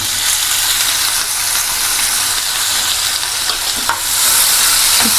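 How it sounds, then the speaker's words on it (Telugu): Ivy gourd (dondakaya) pieces fry in hot oil with garlic, green chilli and cumin for a chutney, giving a steady, dense sizzle throughout with faint stirring scrapes and no talking. "దొండకాయలు అలా వేగుతున్నాయి కదా."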